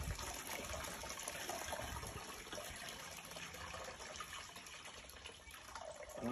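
Muddy, silty soil water poured off from a settled mix of soil and clay, a continuous gushing, splashing flow lasting several seconds with a wet trickling texture throughout.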